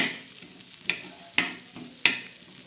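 Onion roasting in a pan for black masala, with a soft continuous sizzle broken by three sharp scraping stirs at roughly even intervals, close by and without speech.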